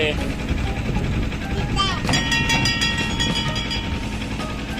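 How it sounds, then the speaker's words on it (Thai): A small tourist train at Swiss Sheep Farm in Phetchaburi, Thailand, pulls away with rumbling wheels and mechanical clatter, a short whistle-like tone partway through, while voices chatter nearby. "รถไฟกำลังจะไปแล้วครับ"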